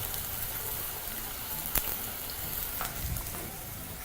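Garlic, chives and onions frying together in oil in a pan, a steady soft sizzle with a few brief louder crackles, close and continuous with no talking.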